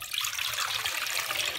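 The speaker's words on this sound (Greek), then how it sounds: "Πρώτα θα ρίξω το νερό μου το χλιαρό." Lukewarm water pours steadily into a bowl for no-bake bread dough, a continuous bright splashing stream that fills the whole moment with no talk over it.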